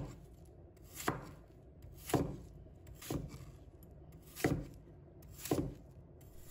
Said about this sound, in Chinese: 再把它放在菜板上，把它切成滚刀块。